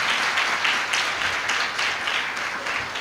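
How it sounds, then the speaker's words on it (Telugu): A church congregation at a field training programme claps steadily together, a dense, sustained round of applause filling the room for several seconds. "క్లాప్స్ ఇస్తావా దేవునికి ఒకసారి?"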